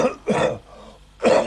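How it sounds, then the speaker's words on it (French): A patient coughs during a country doctor's chest examination: two harsh, close coughs in quick succession, a brief quieter gap, then a third loud cough. "Essayez voir de tousser."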